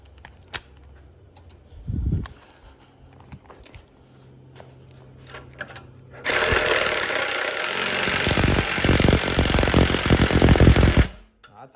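Bolts on a PRC kart being tightened with a 7/16 wrench and socket: a few scattered clicks and knocks first, then a loud, sustained, harsh rattling burst that runs for several seconds before cutting off.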